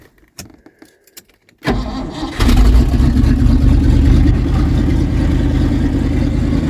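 An old plow truck engine cranks and catches, a few clicks and keys first, then a loud close roar that settles into a steady rough idle.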